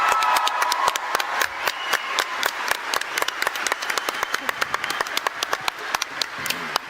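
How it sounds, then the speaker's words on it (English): An audience claps for two game-show hosts arriving at a live PAX Australia convention panel, a dense run of individual hand claps, some sharp and close, that thins out toward the end, with cheering faint underneath. "Please make a big round of applause for Hex and Barjo, ladies and gentlemen."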